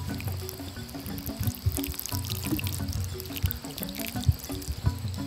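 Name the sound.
pouring water onto a newly potted Bear's Paw succulent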